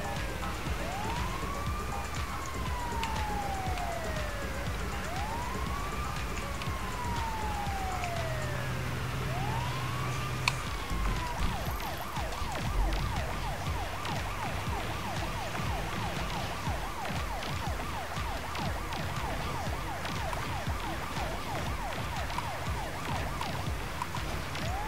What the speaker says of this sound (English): thanks for running into the fucking ambulance